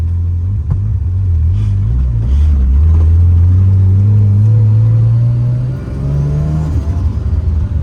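A Mazda RX-7 FC with a jittery transmission revs steadily upward while being shifted, its droning engine note climbing, dipping briefly at the shift, then settling back.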